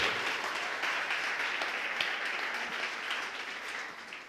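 A church congregation applauds together, a steady dense wash of clapping that holds for several seconds and fades slightly toward the end, with no voices standing out.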